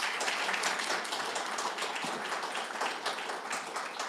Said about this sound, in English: please give a big round of applause to our visitors from Belize.